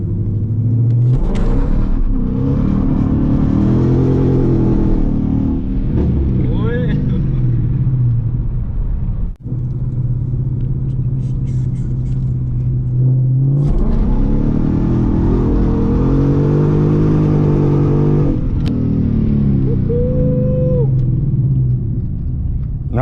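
A Ford Mustang GT engine revs hard during street drifting, with two long loud bursts of roaring, rising and falling engine tone and rumble, split by a brief drop between them and carrying on continuously near the listener.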